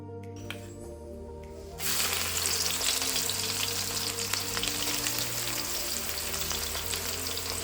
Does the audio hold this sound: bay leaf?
yes